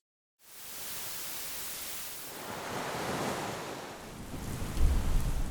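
Steady rush of ocean surf from an iPhone's background sounds feature, a broad hissing wash of waves that swells and recedes, growing slightly louder toward the end, with no voices.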